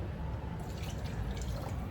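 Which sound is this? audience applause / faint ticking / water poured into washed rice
water poured into washed rice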